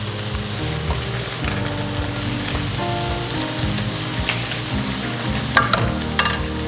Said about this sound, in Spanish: ahí le vamos a poner el pollo y lo mezclamos bien